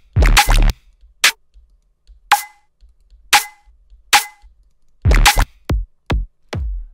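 Dubstep snare and clap hits with a softened transient, sounding as isolated sharp percussive hits spaced apart in a loose rhythm, followed by a quicker cluster of hits near the end, dry and prominent.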